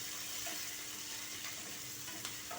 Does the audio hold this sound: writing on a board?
no